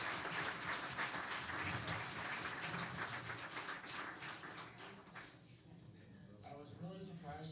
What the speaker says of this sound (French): j'aimerais qu'on applaudisse nos conférenciers